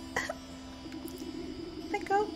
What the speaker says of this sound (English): The goat coughs up a disgusting hairball